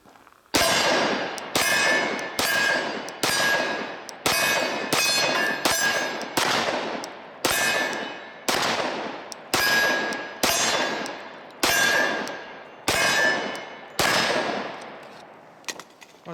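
A Glock 20 Gen 4 pistol fitted with a DPM Systems recoil reduction system fires about fifteen shots in quick succession, each a loud bang followed by a bright ringing clang as the rounds alternate between two steel targets.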